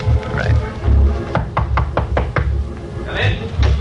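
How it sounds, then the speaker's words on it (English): A knock effect on an office door in a radio crime drama, a quick run of about five sharp raps in the middle, with background music and voices around it. "Knock."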